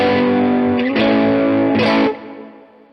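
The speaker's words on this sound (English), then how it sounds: "you're actually getting a natural reverb sound on top of that crunch" Electric guitar through a modded Fender Blues Jr. amp set to crunch with reverb: a few distorted chords ring out in turn, each held, then a reverb tail fades after the last.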